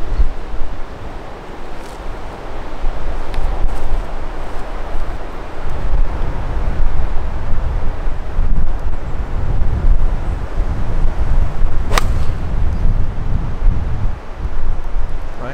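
Steady wind buffets the microphone on the Les Pins golf course at Hardelot, a constant low rumble with gusty swells and a few brief rustles throughout, no talking.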